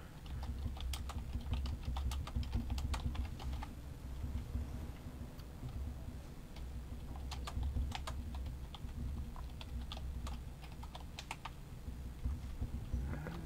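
Rapid clicking of keys being typed on a computer keyboard, steady and fairly close, with bursts of keystrokes over a low background hum and no talk.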